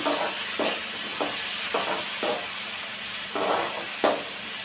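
Onions and curry leaves sautéing in a pan for a chicken fry, giving a steady hiss and sizzle with repeated soft stirring bursts that recur every half second or so, close and even throughout.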